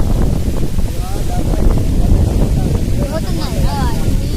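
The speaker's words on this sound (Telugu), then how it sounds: "గాలి ఎంత తీవ్రంగా ఉందో మీరే చూడొచ్చు" Strong wind roars and buffets the microphone continuously in a forest near Muthyamdhara waterfall, loud and close, while a voice speaks faintly under the gusts.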